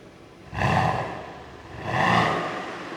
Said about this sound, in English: This is with the valves closed, so it's much quieter. Give it a little tiny rev.